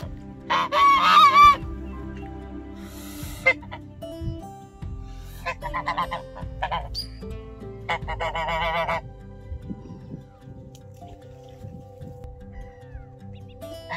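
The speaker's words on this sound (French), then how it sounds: "les oies" Geese honking loudly in bursts, several calls overlapping at first, then scattered honks fading into quieter outdoor background.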